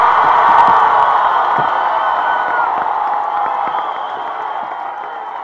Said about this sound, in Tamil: எனக்கு நீங்கள் இங்கே கொடுக்கின்ற கரகோஷங்களும் வரவேற்பும்